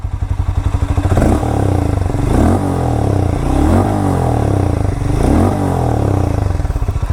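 A Harley-Davidson X440T single-cylinder motorcycle idles with a loud thumping beat, then is blipped on the throttle in several repeated revs that rise and fall, close up and without talk.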